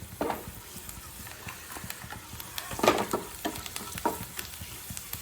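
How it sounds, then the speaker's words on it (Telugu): Seeds crackle and sizzle in hot oil, with scattered popping and stirring scrapes throughout. "జీలకర్ర ఆవాలు వేస్తున్నాము."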